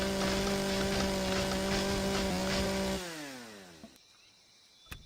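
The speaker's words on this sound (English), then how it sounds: "To reload the chainsaw." A chainsaw cuts wood in the survival game Empyrion, a loud, steady buzzing drone for about three seconds before the engine winds down and trails off into quiet with a couple of faint clicks.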